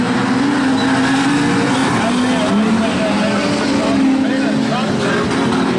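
Street stock race car engines roar continuously at high revs on a speedway, blending into a dense whine with a rumbling undertone, while a commentator talks over them.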